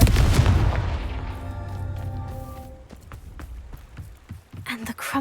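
A Confringo spell blast in Hogwarts Legacy booms loudly at the start and decays over about two seconds, followed by scattered sharp clicks and impacts.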